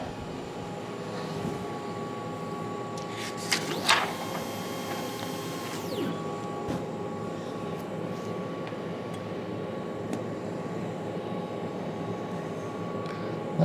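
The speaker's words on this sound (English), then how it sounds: "So it's going to print a nozzle check." An inkjet printer runs a nozzle check with a steady mechanical hum and a brief whirring burst of carriage movement near the start, then continues droning evenly.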